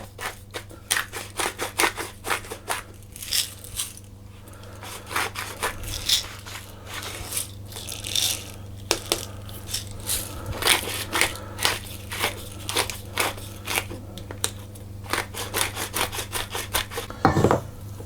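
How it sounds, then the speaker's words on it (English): A pepper mill grinding pepper into a cheese and onion pasty filling: a close, repeated dry crunching and rasping in quick bursts with short pauses between twists, heard alone without talk. "I'm just going to grind some pepper in as well"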